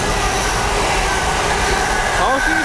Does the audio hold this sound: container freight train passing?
yes